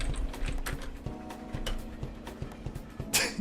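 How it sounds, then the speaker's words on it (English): Quick, light key clicks on a computer keyboard come in an irregular patter close by, quiet and continuous for a few seconds, with a brief louder clatter near the end. "Helps if I type on the right keyboards."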